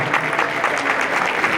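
Applause from an audience at an Ethiopian community association's anniversary celebration fills a short burst of steady, dense clapping close by, with no gaps.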